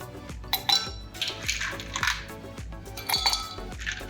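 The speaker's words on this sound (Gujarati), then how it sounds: "હવે આપણે એમાં બરફના ટુકડા એડ કરવાના છે." Ice cubes dropped into glasses of lemon sharbat syrup, giving a series of sharp, close clinks and knocks at an uneven rhythm with no talking.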